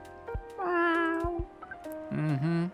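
A cat in the Coffee Talk video game meows twice, close and clear: one drawn-out rising-falling meow, then a shorter, wavering second call after a brief pause, with light clicks around them.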